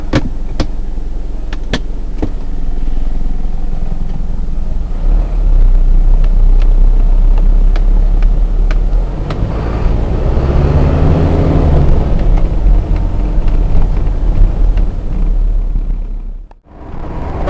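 Car cruising on an open country road between Kirkcudbright and Dumfries in Scotland, a steady loud rumble of engine and tyres with wind noise, building slightly midway before a brief dip near the end.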